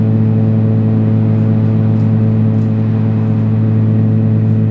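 Cessna T210N engine in flight, a steady loud drone with strong low harmonics and rushing wind noise, as through an open cabin window, continuous and unchanging throughout.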